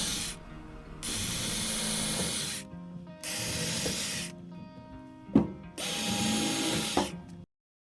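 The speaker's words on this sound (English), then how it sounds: "I can take my drill and drill some pilot holes for the screws" A power drill whirs through wood in three sustained bursts separated by short pauses, loud and close, with a few clicks between bursts.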